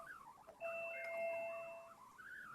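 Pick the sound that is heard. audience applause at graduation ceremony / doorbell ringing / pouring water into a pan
doorbell ringing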